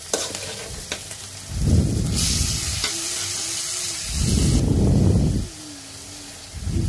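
Shredded cabbage frying with scrambled egg and salt in a pan, loud bursts of sizzling that rise and fall as it is stirred, with quieter gaps and a faint whistling tone between them; nobody speaks.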